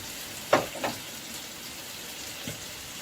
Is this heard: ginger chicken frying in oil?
yes